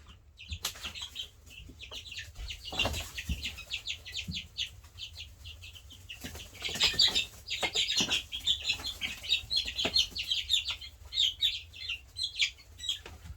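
Young black copper maran chickens give soft clucks and rapid high peeping chirps, with a few wing flutters. The calls are close and intermittent, building into busier chirping in the second half.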